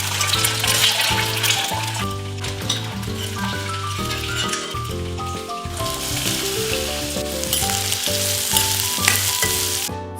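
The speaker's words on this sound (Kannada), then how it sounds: "ಮೊಟ್ಟೆಗಳನ್ನ ಎಣ್ಣೆಯಲ್ಲಿ ಹುರ್ಕೊಳ್ಳೋಣ" Halved boiled eggs frying in hot oil, giving a loud, steady, close sizzle and crackle that runs throughout without pause.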